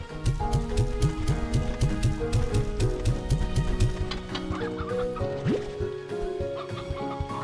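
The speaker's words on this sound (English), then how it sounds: "Be weird unstable chickens." Chickens cluck in the Slime Rancher 2 game, a rapid run of short, close clucks over steady background music that thins out after a few seconds, with no talk.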